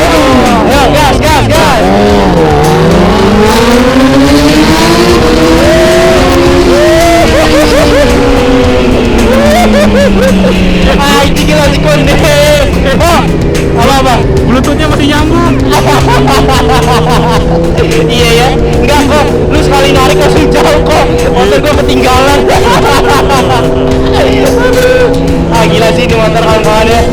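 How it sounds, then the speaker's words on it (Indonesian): A modified Kawasaki ZX10R racing motorcycle revs loudly and close, its pitch rising and falling through repeated throttle blips over a long stretch, with voices and background noise underneath. "langsung aja kita dengar kawan-kawan, bagaimana rasa suara dari ZX10R ini"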